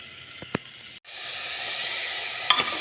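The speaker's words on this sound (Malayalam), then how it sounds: "നമ്മൾ അരിഞ്ഞ് വെച്ചിട്ടുള്ള സവാള, തക്കാളി, പച്ചമുളക്, കറിവേപ്പില, ഇഞ്ചി വെളുത്തുള്ളി പേസ്റ്റ് അതെല്ലാം കൂടി ഇതിലേക്ക് ചേർക്കുക." Chopped onion, tomato, green chili, curry leaves and ginger-garlic paste go into a hot pan for green peas curry, bringing a steady loud sizzle after a brief thump and a couple of clinks.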